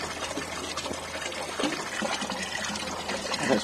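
Water trickles and pours steadily into cloth bags being loaded until they grow heavy, a continuous close liquid splashing with slight surges, no talk over it.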